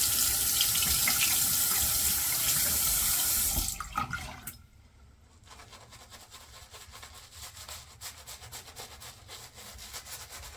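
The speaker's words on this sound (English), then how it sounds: "We're going to get plenty of water on this." Water runs loudly from a tap for about four seconds to soak tangled hair, then cuts off, leaving quieter rubbing and handling sounds.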